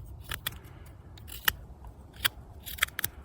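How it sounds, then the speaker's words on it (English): Opinel 8 knife with a convex edge push-cutting wood into feathersticks: a handful of crisp, sharp shaving scrapes spaced irregularly over a low background rumble, close and fairly quiet with no talk. "It's more pleasant to cut with these push cuts"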